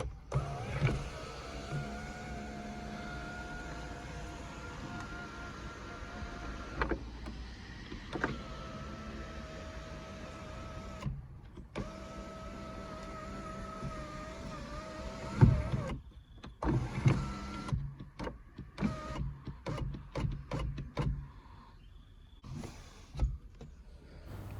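The sunroof motor of a 2005 UK-market Toyota RAV4 whines steadily in several runs, broken by short pauses and followed by a string of clicks and clunks near the end.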